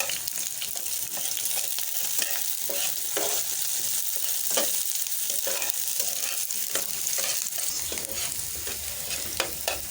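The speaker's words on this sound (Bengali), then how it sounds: "শুকনো মরিচটা ভাজা হয়ে গেছে।" Chopped garlic, green chillies and three dried red chillies fry in hot oil in a pan, giving a steady, close sizzle broken by repeated scraping stir strokes for the whole stretch, with no voices.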